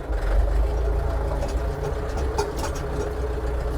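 A new, not yet broken-in mini tractor engine, a Skaut TU404S or Kentavr 404SC, chugs steadily at low revs in first gear. The rough, continuous rumble stays close and loud, with no talk.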